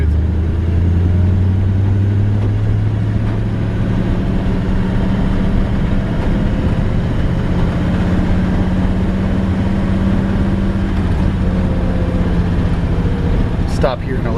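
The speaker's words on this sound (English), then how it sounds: "just surprised at how well this old truck drives" A 1938 Ford truck drives along the road, its engine a steady, close, low drone with road rumble that holds evenly from start to finish.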